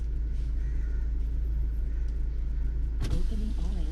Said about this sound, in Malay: open window half.